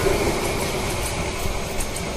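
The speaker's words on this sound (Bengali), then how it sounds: "তো কুড়িগ্রাম এক্সপ্রেস 798 গ্রাউন্ড ট্র্যাকে চলছে" Kurigram Express 798, a Bangladeshi passenger train of Chinese and Inka coaches, rumbling along a ground-level track near the North Azampur rail gate, a steady broadband roar of wheels and running gear at close range.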